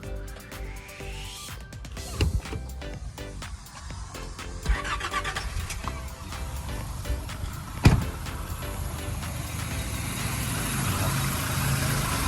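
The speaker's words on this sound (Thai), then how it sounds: "อ่ามาฟังเสียงเครื่องนะครับ" A Nissan Navara pickup's engine turns over with sharp clicks and knocks, then settles into a smooth, steady idle heard close by, with a loud thump near the middle; no one speaks.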